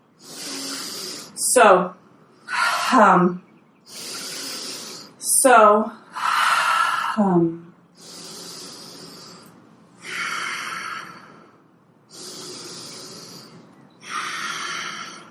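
Deep, slow breathing during an exercise class, about eight long breaths in and out spaced evenly a couple of seconds apart, close and clear, with a brief spoken word near the start.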